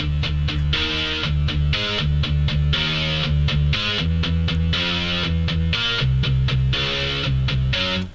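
A synth riff of thick power notes stacked in octaves, playing a steady rhythmic pattern with short gaps between hits, loud and upfront.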